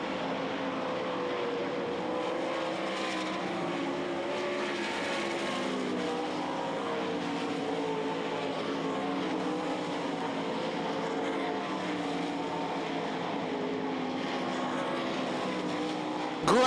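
Race cars at the 2003 Knoxville Nationals circling the track, heard as a faint, continuous drone of engines that swells and fades from a distance.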